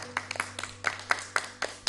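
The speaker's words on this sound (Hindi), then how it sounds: "तालियां बजा दो ययाति के लिए।" A small studio audience at a children's television programme claps for a young girl after her poem recital, producing a short run of sparse, uneven handclaps without any voices.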